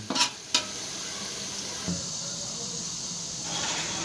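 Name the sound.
onions frying in a pan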